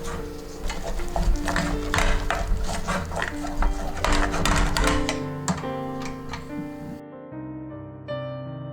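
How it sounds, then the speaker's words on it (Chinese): Glutinous rice dough for nerikiri wagashi is stirred in a pot until soft. A spoon or spatula keeps up a dense, rapid scraping and tapping at close range, then stops abruptly near the end, leaving a faint ringing. "一直不断搅拌， 直到成为软的糯米团。"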